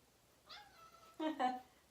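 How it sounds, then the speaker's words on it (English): An indoor cat gives a short, faint meow followed by a brighter two-part meow, close by in a quiet room. "This is the problem with the active cat."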